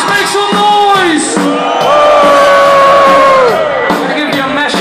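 Festival audience at a 2013 Memphis Maniacs show at Zomerfestival TU Delft screams, whoops and yells loudly and continuously, with sustained high shouting voices rising and falling throughout.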